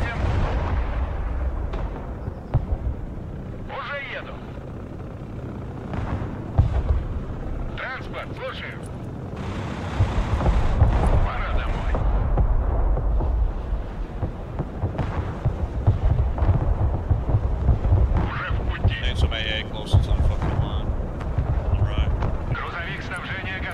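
Grad rocket artillery fire in the video game Broken Arrow, a multiplayer battle: repeated deep booming rumbles and crackling bursts roll on and off at moderate loudness over a continuous battlefield din.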